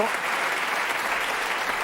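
A studio audience on a French music talk show applauds a rap producer with a dense, even wash of clapping that holds steady for the whole short stretch.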